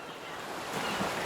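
Ocean waves crashing on the shore at Piran, Slovenia, a broad steady wash of surf that swells louder toward the end, with wind noise and no talk.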